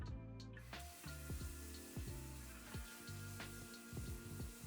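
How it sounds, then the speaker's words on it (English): Water from a kitchen faucet splashing steadily into a sink while hands are washed, with intermittent clicks and splatters over a continuous close rush, no talking. "remember to wash your hands"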